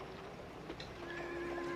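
A horse whinnies in a Western setting, a short rising neigh heard at moderate distance over a steady background hum, with no voices.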